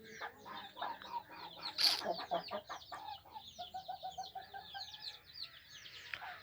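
Chickens cluck close by on a rooftop in quick, repeated bursts, with one louder squawk partway through and a run of softer rhythmic clucks afterward.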